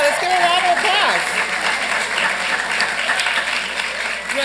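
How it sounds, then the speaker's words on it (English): Audience at a city council meeting breaking into loud, dense applause, with voices and a few whoops mixed into the clapping throughout. "let's give a round of applause"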